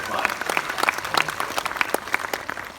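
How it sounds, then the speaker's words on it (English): Audience applause at a film Q&A event for Boy Erased, a steady burst of clapping from a crowd filling the room. "that is definitely worthy of a big round of applause"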